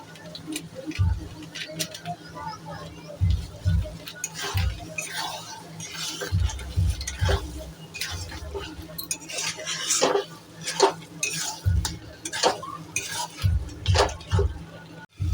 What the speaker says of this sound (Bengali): দেখো কোনো মশলাটা কষাচ্ছি।